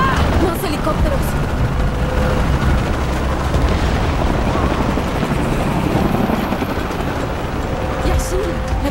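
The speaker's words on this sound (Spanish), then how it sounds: "Helicópteros." Helicopters in the Shadow of the Tomb Raider video game: a loud, continuous rotor thrum with deep rumbling booms, running under intermittent voices.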